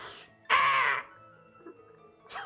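A human voice imitates a crow's harsh caw during a fantasy tabletop role-playing game session, one loud drawn-out call standing out from quiet background talk, with a shorter fainter sound near the end.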